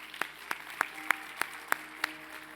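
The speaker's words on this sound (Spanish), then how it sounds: "Dele un fuerte aplauso al Señor una vez más." Worshippers at a church service clap in a slow, even rhythm: about seven sharp, distinct claps spaced evenly apart, fairly soft, with quiet room tone between them.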